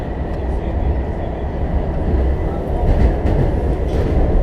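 WMATA Rohr 1297 subway car running on the Red Line near Tenleytown, a loud steady rumble of wheels and interior roar building slightly toward the end, with faint voices underneath.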